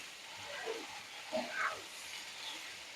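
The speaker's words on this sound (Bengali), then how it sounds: "মশলাটা একটু আমি কষিয়ে নেবো" Mustard-seed spice paste frying in a pan for a fish curry, a steady soft hiss throughout with a few brighter crackles near the middle, close and alone without talk.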